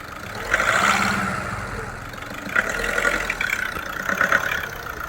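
A VW Vento TDI diesel with weak pickup revs in short swells: the engine climbs, eases back, then rises again, loud and close.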